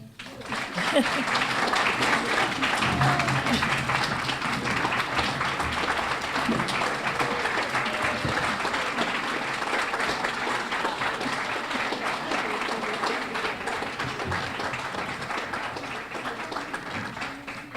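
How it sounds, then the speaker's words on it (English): Sustained audience applause fills a banquet room at a grand marshal dinner, loud and steady for the full stretch with no voices standing out. "Well-deserved huge round of applause for Angela."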